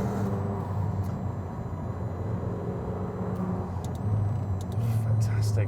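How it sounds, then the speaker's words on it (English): Twin-turbo McLaren 750S supercar driven on track and road, its engine droning steadily up close with turbo wastegate chatter and hissing over the top, while someone talks throughout. "God, you can hear the wastegate."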